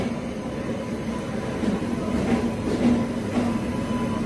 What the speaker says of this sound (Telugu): అటు ప్లాట్ఫామ్ లోకి ఒక ట్రైన్ అయితే వస్తుంది.